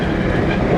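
Amtrak passenger train rolling along the rails on a trip toward Niagara Falls, heard from inside as a steady, loud, dense rumble with faint clickety-clack of the wheels and no talk.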